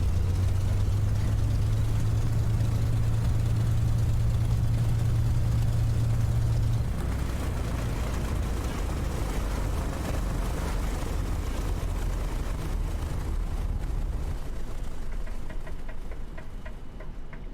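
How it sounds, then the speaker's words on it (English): Spitfire engine in a flight simulator, running steadily, then coughing roughly and cutting out, leaving a fading, sputtering mechanical rumble over about seventeen seconds. "as you hear the engine starting to run a little rough, that's when you pull the slow running cutoff there"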